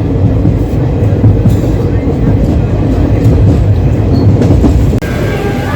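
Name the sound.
Coromandel Express train at Khurda Road Junction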